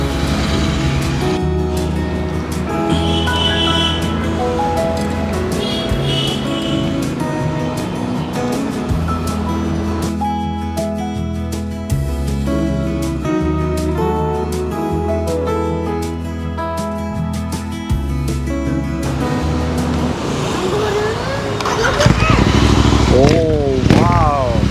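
A loud Royal Enfield Interceptor 650 with an AEW exhaust and no dB killer idling and revving with a deep, bassy, rumbling exhaust, pulsing steadily and rising sharply near the end.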